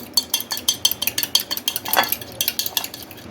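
Egg seasoned with salt and ground black pepper being whisked in a bowl for a mutton nugget egg wash, a fast, steady run of sharp, close clicks and taps with no talking.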